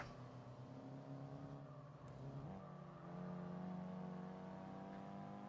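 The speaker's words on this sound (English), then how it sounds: "I'm pretty convinced that this isn't the double engine sound for this actual car" A racing car engine in the video game Gran Turismo 4 drones and revs, its pitch shifting upward as it accelerates, heard fairly faintly and without talk.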